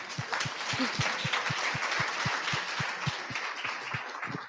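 Audience applause at a monthly community gathering, a steady wash of clapping from a crowd in a hall, with a few sharp, regular claps standing out nearby throughout.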